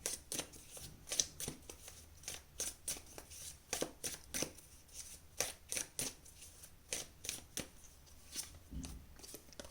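Tarot cards pulled one after another from a deck, a steady run of crisp, close slapping and sliding flicks with brief gaps, nobody talking.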